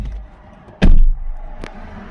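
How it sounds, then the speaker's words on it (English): A single heavy thud of an Audi A3 Hybrid 2021 car door at close range, followed a moment later by a lighter click, with low engine hum underneath. "as soon as I open the door"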